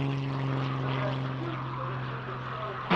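A toy dragonfly plane whirs with a steady, buzzing propeller-like drone, close and fairly loud, holding evenly throughout without talking over it.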